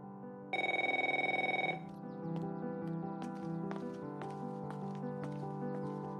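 A telephone rings loudly in a steady electronic trill for about a second, with a room tone underneath and a few soft thumps afterward; no one talks.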